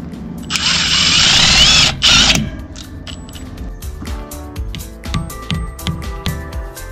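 A power drill driving self-tapping screws whines loudly in a sustained burst for about two seconds, followed by clattering and knocking of handled parts and tools while mounting a string light pole.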